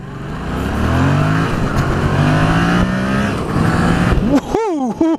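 Yamaha MT-07 motorcycle engine revving on a test ride, a loud close-up parallel-twin drone that holds steady, then sharp throttle blips rising and falling near the end.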